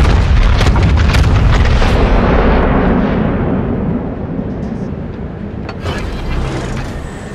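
Naval guns in a video game fire in heavy, rolling booms that blend into a loud, dense roar, fading slightly toward the end.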